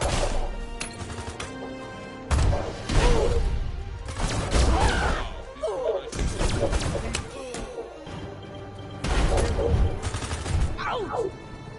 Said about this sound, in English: A shootout in the open street like this?